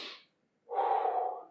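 Two close, breathy exhalations during an arm exercise with weights: a short puff of air, a brief silence, then a longer forceful breath out, with no talking.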